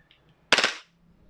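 WE Glock 18c Gen4 airsoft gas blowback pistol fired on full auto, one short sharp close burst of rapid cracking pops after near silence, fading quickly, no speech.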